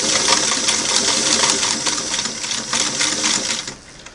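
A Singer Model 338 sewing machine sews a single-needle straight stitch, giving a close, loud, rapid mechanical chatter that runs steadily for about four seconds before easing off.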